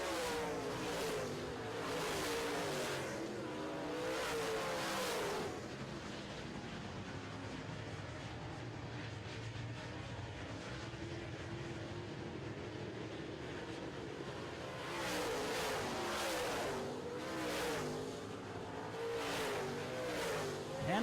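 Late model race cars roar around a track during a feature race, engines swelling loudly as the pack passes, then fading to a distant drone before surging close again.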